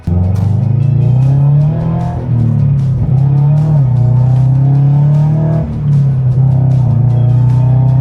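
A manual Scion sports car engine drones loudly and steadily while driving, pitch shifting with gear changes and small bursts of revving.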